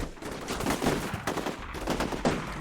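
Gunfire in the Combat Mission Shock Force 2 wargame during an urban fight among buildings: rapid overlapping rifle and machine-gun shots crackle continuously, loud and near, with no voices.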